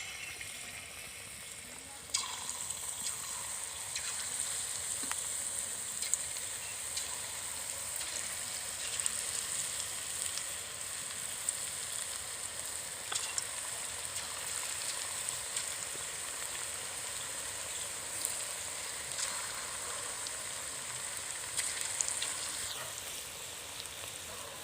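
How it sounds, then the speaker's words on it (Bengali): Chicken pakoras deep-frying in hot oil, a constant bright sizzle with scattered crackles and pops, fairly quiet and close, running alone the whole time. "আর একবার আমি পকোড়াগুলো ভেজে আপনাদের দেখাচ্ছি।"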